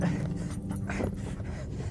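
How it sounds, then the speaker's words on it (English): A dog whimpers softly up close after fetching a Frisbee, a steady low whine with faint panting and no other clear sounds. "This dog brought the Frisbee to me, but she won't give it to me."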